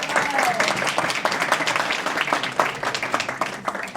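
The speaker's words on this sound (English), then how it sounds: "Let's give him a nice round of applause." Audience members at a neighborhood association's monthly general meeting applaud a newly introduced board member, with steady, fairly loud clapping from a room of people, and some voices and crowd murmur mixed in.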